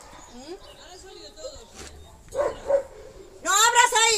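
A dog gives a few short barks and yips, close but moderate in volume, spaced irregularly between quieter moments, with people talking nearby.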